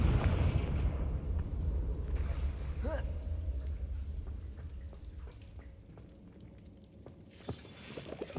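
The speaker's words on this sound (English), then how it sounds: "Confringo!" A Confringo fire spell explodes in the game Hogwarts Legacy, a loud broad boom that decays into a rumbling tail with crackles, ending in another burst.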